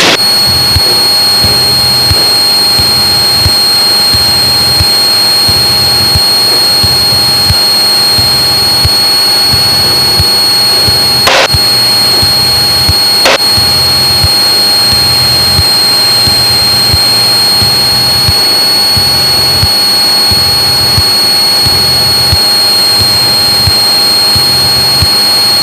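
A Cessna 185's piston engine drones steadily, heard from inside the cockpit on the approach to landing, with a loud continuous hum and a pulsing low throb that holds for the whole stretch, broken only by two brief clicks.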